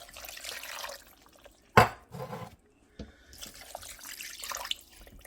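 Two cans of water are poured into a pot of beef stew, with short splashy gushes and a brief sharp clank, close up and moderately loud, with no talk.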